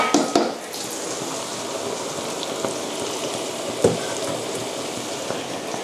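Battered vegetables sizzle and crackle in hot oil, tempura-style, as a steady dense fizz with scattered sharper pops, close and moderately loud, with no talking.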